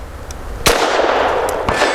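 Grand Power LP380 pistol fires at steel targets outdoors: two sharp, loud reports about a second apart, each with a ringing tail, plus faint distant shots.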